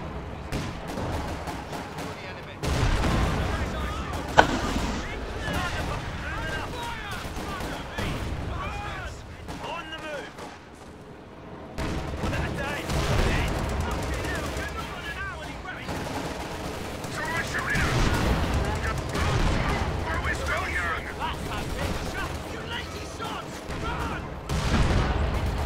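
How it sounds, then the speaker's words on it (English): A World War II-style video game battle with British against German forces, full of dense overlapping gunfire, machine gun bursts and booming mortar impacts, loud and continuous, while players talk over the din. "Got a lot of mortars."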